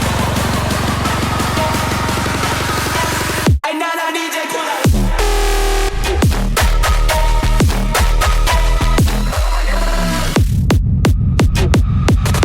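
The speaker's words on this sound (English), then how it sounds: "what I was thinking about the white noise here" An electronic music track built around a low-pass-filtered buildup with kicks, with a broadband white-noise layer running loud and dense through the mix. It briefly drops to a low rumble before the full texture returns, ending in sharp rhythmic hits.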